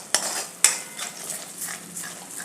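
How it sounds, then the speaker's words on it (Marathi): Masala sautéed in oil in a pan for an aloo matar paneer curry, with two sharp spoon clacks against the pan followed by soft, quiet stirring and low sizzling. "अगदी तेल सुटेपर्यंत हा मसाला आपल्याला तेलात परतायचा आहे"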